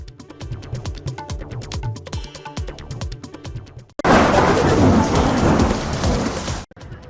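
Heavy monsoon rain with thunder in Rajasthan, heard as a loud, roaring downpour that takes over midway after a stretch of irregular clattering and knocking, then cuts off sharply.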